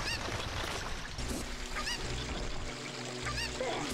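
A chicken in the video game Ocarina of Time gives honking, clucking squawks in quick bursts over a busy bed of game sound effects.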